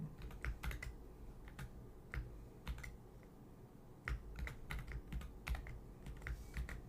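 Password being typed on a computer keyboard, with quick, irregular bursts of fairly close key clicks and taps continuing throughout, no talking.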